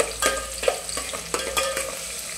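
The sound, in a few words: chopped onion frying in a pan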